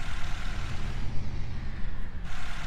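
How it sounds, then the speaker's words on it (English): A VAZ 2131 Niva engine starting in the Spintires off-road driving game, heard as a loud, deep, rumbling idle with a truck-like diesel character, steady throughout with no voices. "let's start up the engine and see how it goes"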